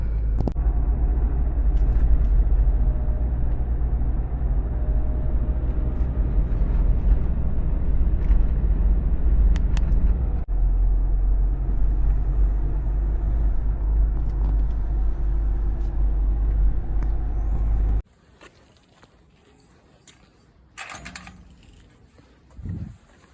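A car heard from inside while driving, with a steady low engine and road rumble for most of the ride that stops abruptly, leaving quiet cabin sounds and a few faint knocks.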